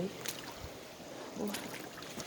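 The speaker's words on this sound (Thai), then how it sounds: "ตรงนี้จะเป็นลำธาร เนี่ยลำธาร" A stream of flowing water in a snowy outdoor hiking spot gives a steady, rushing broadband wash, with soft gusty textures and no voices.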